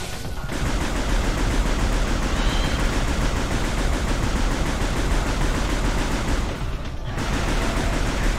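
Rapid, continuous burst fire from an enemy blasting plasma rays in the Metroid Prime 3: Corruption video game, loud and dense for several seconds with a brief gap near the end.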